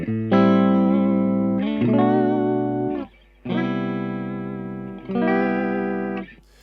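Sustained electric guitar chords ring out through an amplifier, four long strums with a touch of shimmering modulation, each fading before the next.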